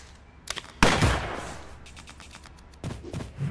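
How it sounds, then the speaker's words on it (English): Sharp gunfire bursts from the game Fights in Tight Spaces: a couple of quick cracks, then a loud blast with a reverberant tail, followed by more scattered shots. "And gunshots sound exaggerated,"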